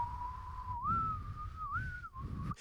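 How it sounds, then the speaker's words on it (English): A single sustained whistled melody from an animated film score, steady and fairly loud, gliding up and down in pitch over a low rumbling backdrop. "he has, like, this evil whistle"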